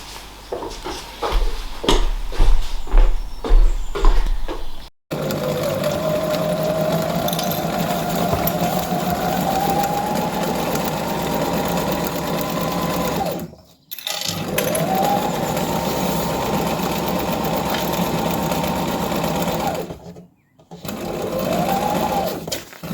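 A sewing machine stitches the side seam of a canvas tote made from an upcycled picnic rug. A few quick stitches come first, then long steady runs of whirring broken by brief pauses, with voices talking over parts of it.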